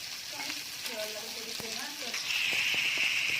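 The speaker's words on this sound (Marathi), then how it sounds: "फ्राय ना मग तव्यात चांगला कांदा लसून टाकलेला आहे" Steady oil sizzle from onion and garlic frying in a pan, rising louder toward the end, with faint clinks and a voice murmuring in the background.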